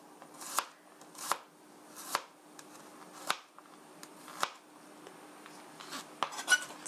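A knife chops half an onion and two garlic cloves on a cutting board in sharp, evenly spaced strokes about one per second, close and crisp, quickening into a few faster cuts near the end, with no talk.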